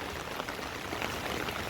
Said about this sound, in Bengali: প্রচুর বৃষ্টি, বেচা কেনা হচ্ছে বন্ধ না? একে তো বৃষ্টি পড়তেছে, তারপর বাতাস।